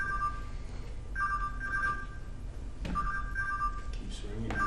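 A telephone rings in two long electronic bursts separated by a short pause, over a steady noisy background.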